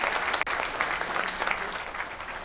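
Crowd at a BDO World Trophy darts semi-final cheering and clapping for Lisa Ashton, a steady roar of applause with a brief dip early on.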